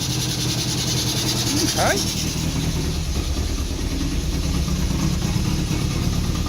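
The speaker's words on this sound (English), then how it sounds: "1 out of the 2 carbs has got the choke on, so it's missing and backfiring a bit." An old car engine with twin carburetors, one on choke, idles at a steady, low rumbling hum close by; a voice speaks briefly over it.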